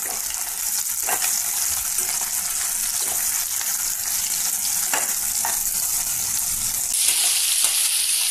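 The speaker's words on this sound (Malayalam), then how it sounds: "ഇനി നമുക്ക് ഉള്ളി വഴറ്റാനിടാം." Onions sizzle and fry in hot oil with cumin, fennel, bay leaf and curry leaves for a chana curry, a constant close hiss broken by occasional spatula scrapes.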